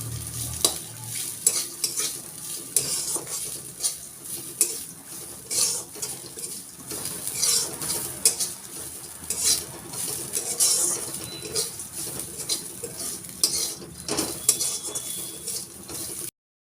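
Spices sizzle and fry with dried coconut in a pan for mutton korma, a spoon scraping and stirring steadily throughout, close and moderately loud, with occasional clinks of metal on the pan and no talking.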